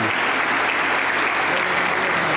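Congregation at a Pentecostal church service applauding for the Lord after a healing testimony: a thick, continuous wash of clapping that fills the room, loud and steady from start to finish.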